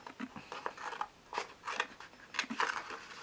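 Scissors snip through paper for a scrapbooking project in quick, quiet, uneven cuts, close by with faint handling noise between the cuts.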